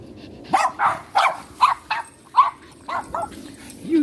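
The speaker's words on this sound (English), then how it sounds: "You don't even know what you're barking at." A small dog indoors gives a quick series of about eight sharp, high yips and barks, close and fairly loud, with brief whimpering between them.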